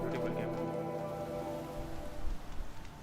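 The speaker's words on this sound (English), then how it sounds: "The rain's letting up." Rain falls in Horizon Zero Dawn, a steady wash of patter and drips that thins out toward the end, with a faint low rumble and a soft tonal hum underneath.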